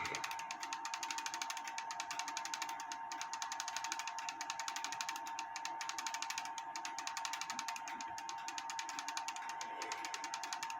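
Pulling the chain on a cuckoo clock sets off continuous fine, rapid clicking of gears and ratchet, faint and close, an even mechanical chatter with no voices.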